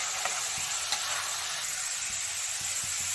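Crispy dalmut lentils deep-fry in hot oil, giving off a steady, dense sizzle with a constant bubbling hiss and no voices.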